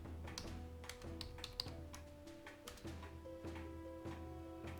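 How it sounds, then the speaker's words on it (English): Steady keystrokes on a computer keyboard as a name is entered in Shroud of the Avatar, soft and close over a low musical drone, with irregular tapping throughout. "Here, I type in Natasha."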